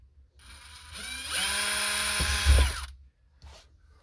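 A power drill whirs up, runs for about two seconds while boring a pilot hole in a third-generation Toyota 4Runner, then spins down, with a brief clunk afterward.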